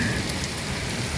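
Steady heavy rain pours over a surface in Riyadh, a dense, even hiss with no pauses and no voices.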